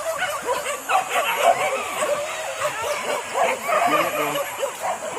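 A pack of hunting dogs barks and yips excitedly during a wild pig hunt in West Sumatra, close and continuous, with whimpering calls overlapping and faint voices underneath.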